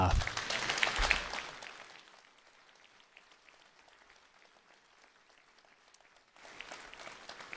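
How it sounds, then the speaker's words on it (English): Applause for the candidates at a local candidate forum, a burst of clapping that fades to a faint patter in a quiet room before a brief swell returns near the end. "if we could just please give them a round of applause"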